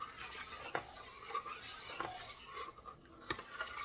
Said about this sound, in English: So we just going to keep stirring.